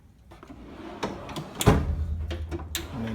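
A Teng tool chest drawer sliding open with metallic clunks and rattling of tools inside, close and moderately loud, a few sharp knocks over a low rumble.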